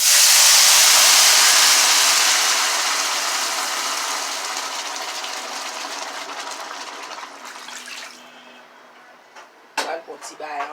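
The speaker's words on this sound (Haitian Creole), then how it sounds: "pois guettant, il est bien grillé là, on va le mettre l'eau là-dedans" Water poured into a hot pot of well-roasted dried beans sends up a loud, bright sizzle and hiss that slowly dies down, followed by a few brief spoken words at the end.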